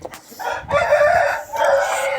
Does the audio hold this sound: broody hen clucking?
yes